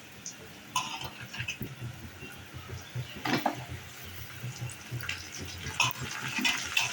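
Onions and tomatoes stirred in a frying pan, soft sizzling with scattered spoon scrapes and clinks against the pan, fairly quiet and close.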